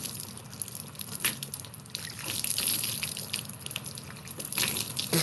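Water splashes and pours steadily from a big bucket in a shower, with irregular louder gushes and drips over a constant wash of noise, no voices present.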